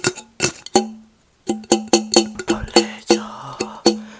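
An empty drink can is handled up close for ASMR, giving a run of sharp metallic clinks and taps with a ringing low tone, in uneven bursts about every half second, with a short pause early on.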